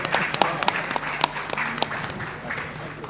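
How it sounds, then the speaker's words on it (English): An audience in a conference hall at an insurtech summit in Mumbai applauds in a sustained, moderately loud round of many hands, with sharper individual claps standing out. "I would like to request the hall for a round of applause for him"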